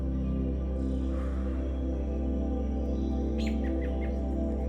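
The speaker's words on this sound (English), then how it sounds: "The cardinals are all around me." Cardinals chirp outdoors, quiet bright calls that come and go over a low, steady background hum, with a short run of quick notes near the end.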